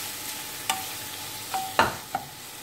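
Chicken and tomato cooking in a pan for chicken Maggi noodles, a low sizzle under several sharp spoon clinks and scrapes against the pan, close up, with no talking.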